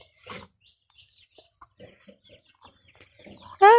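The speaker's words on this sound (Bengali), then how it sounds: "এই দেখো কত মুরগি বাচ্চা।" Chickens and chicks give sparse, faint clucks and peeps close by, ending in one sudden loud, sharp call.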